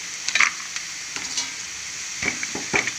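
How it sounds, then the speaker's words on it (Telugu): Mutton keema and cashews frying together in a pan, a gentle steady sizzle with a few quick scraping stirs and light clinks, close and quiet, without talk. "కైమా జీడిపప్పు ఫ్రై బాగుంటుందండి కొద్దిగా వేగనిద్దాం"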